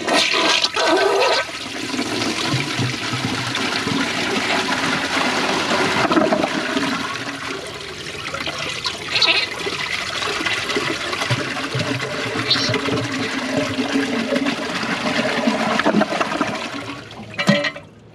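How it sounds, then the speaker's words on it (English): A 2015 Kohler Wellworth Class 5 toilet on a Portrait Lite tank flushes with its siphon jet plugged and the handle held, a long rushing gurgle that surges, fades and ends in a second short flush. "Here is another flush with the siphon jet plugged,"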